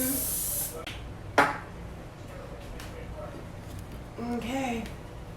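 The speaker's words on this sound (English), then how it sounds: "Spray your pan." Cooking spray hisses into a cake pan in a home kitchen, one short burst at the start followed by quieter handling noises and a brief clatter.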